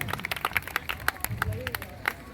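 A crowd at a prize distribution for a block-level sports competition claps in scattered, uneven bursts while people talk over it, the applause light and fairly close.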